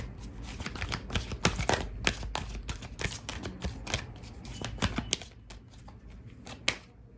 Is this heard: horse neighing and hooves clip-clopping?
no